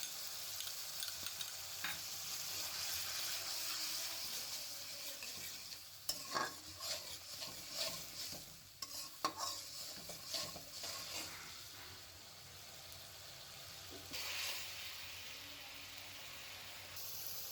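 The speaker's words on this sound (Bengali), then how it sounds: "এবার সব মশলা একসাথে কষিয়ে নিচ্ছি" Potatoes and spices fried with yogurt in a pan, a soft steady sizzle under repeated scraping stir strokes that bunch up in the middle, then settle back to a quiet hiss.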